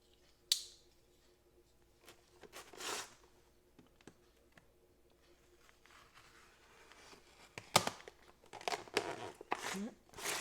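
Plastic packaging around a Ryobi 4V cordless 3/8-inch ratchet is cut open and handled, with intermittent crinkling, snipping and rustling bursts close by against a quiet background.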